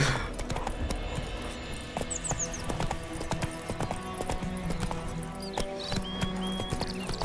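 Hooves clip-clop in a quick, steady rhythm as a horse runs in The Witcher 3: Wild Hunt, with a brief whinny and light ambient tones in the background.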